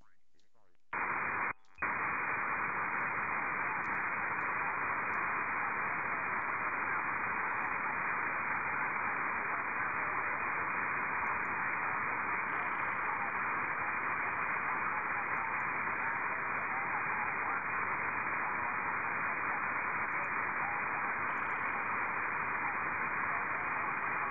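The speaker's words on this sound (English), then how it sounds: "signals came up a little bit that time, but still very much buried in the noise" Loud, steady hiss of static fills an amateur radio receiver after a brief click and dropout at the start. Any weak signal stays buried in the constant broadband noise.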